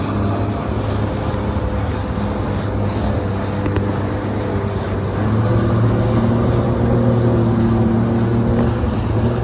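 A boat cruising on open water at sunset off Miami, with a steady engine drone and constant wind rush over the microphone, continuous and fairly loud with no talk.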